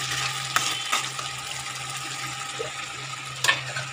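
Spice paste for a jackfruit curry sizzling and frying steadily in a pan, with a few brief stirring scrapes and clinks, close and continuous with no talk.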